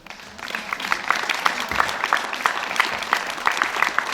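Audience clapping at a high school graduation ceremony at Veisiejai gymnasium, a dense, steady applause with crisp individual claps standing out, close and moderately loud throughout.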